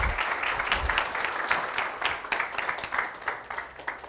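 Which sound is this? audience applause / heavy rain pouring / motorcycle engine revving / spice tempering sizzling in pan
audience applause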